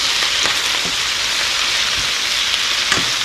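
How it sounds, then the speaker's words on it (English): Collard green leaves sautéing in a pan, a dense, even sizzle with scattered pops and crackles, close and steady throughout with no voices. "We're just going to saute these leaves for a little bit till they start to cook down a little"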